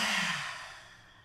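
A single long exhale during yoga breathing, soft and close, starting with a breathy voiced sigh and trailing off gradually into quiet air.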